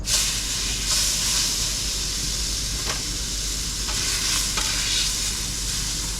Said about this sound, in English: I just put some oil on the barbecue, but we'll whack our steaks on.